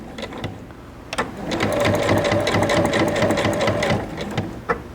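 A sewing machine stitching cotton piping cord into a rope basket, a close steady mechanical whirring and rapid needle chatter for a few seconds, preceded and followed by soft handling clicks.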